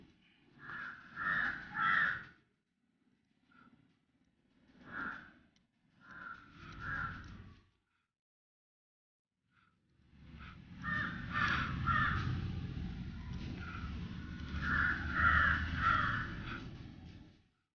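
A crow caws loudly close by in a short series, a gap, then a longer stretch of repeated harsh calls.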